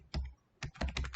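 Keys on a computer keyboard clack in a short burst: a couple of quick presses, a brief pause, then a faster run of close, crisp taps.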